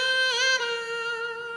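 A voice imitates a trumpet, holding one brassy, buzzing note with a slight wavering bend, close and fairly loud, lasting under two seconds.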